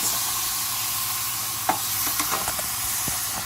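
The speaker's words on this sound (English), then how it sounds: "So we're going to start stirring our meat." Ground meat for Puerto Rican picadillo frying in a pan, a steady sizzle with a few light stirring scrapes and clicks near the end, no talk.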